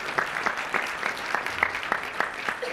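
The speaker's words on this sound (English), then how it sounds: "Can we give them a round of applause for their new business?" Audience applause at a city State of the City event honoring a new small local business, with sparse, distinct individual claps that continue steadily at a moderate level, heard alone without talk.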